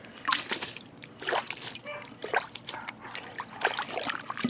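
Water poured and sloshed out of a bird bath in a chicken area, a series of short splashing trickles and drips in irregular bursts, fairly faint.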